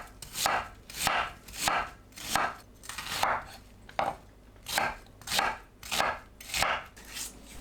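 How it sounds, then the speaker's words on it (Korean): A knife chops radish, pear and onion on a board in a rhythmic series of about eleven sharp, close strokes at a steady pace, with no talking. "무, 배, 양파를 믹서에 갈기 좋은 크기로 썰어주세요."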